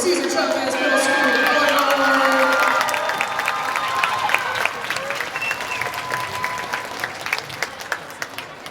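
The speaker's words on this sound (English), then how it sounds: "Once again, a big round of applause for Cesar Chavez, middle school." An audience applauds and cheers after a middle school performance at a guard, dance and drum night, loud at first with a voice over it, then thinning into scattered claps.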